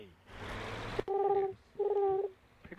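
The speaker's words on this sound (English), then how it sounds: "Pick up the phone." A phone rings in the video game Dead Island, two steady tonal bursts separated by a short gap, loud and close after a stretch of broadband noise.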